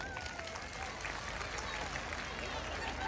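A large crowd, mostly women, claps loudly and continuously at a live comedy show in Uttam Nagar, a steady wash of applause with voices mixed in.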